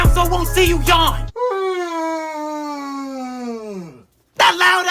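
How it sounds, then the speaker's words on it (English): Exaggerated, drawn-out human yawn, loud and close, a long wavering vocal moan that slides downward and fades out, framed by brief talking before and after. "That loud ass yawn!"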